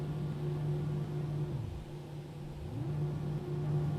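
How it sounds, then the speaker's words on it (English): Flaps on an Airbus A321 in a flight simulator whir with a steady mechanical hum and low drone, the pitch sliding down and back up as the motors run, moderately quiet and with no talking. "that sound for the flaps actually sounds really good"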